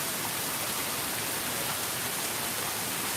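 Evening rain falls steadily as an even, dense hiss with no distinct drops or breaks, soft and continuous throughout, without any voices.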